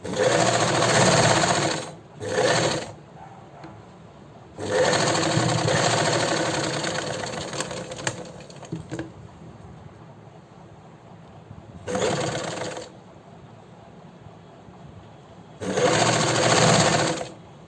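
A sewing machine stitches a sleeve onto a garment, whirring in several loud bursts of varying length separated by quieter pauses, with a low mechanical hum underneath.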